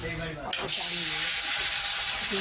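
Pieces of refrigerated rohu fish, including tail sections, hit hot oil in a pan with a sudden loud sizzle that settles into a steady, close frying hiss, with a voice faintly audible at the start.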